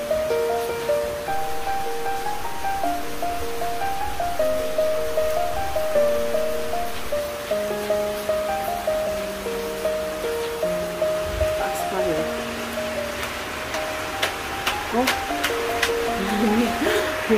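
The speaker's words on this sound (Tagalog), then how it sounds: "umuulan ay grabe, grabe yung ulan" A steady, dense wash of heavy rain pours down continuously, with tonal music-like sounds and occasional spatters layered over the downpour, partly on a rooftop.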